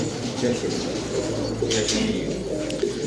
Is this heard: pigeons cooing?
yes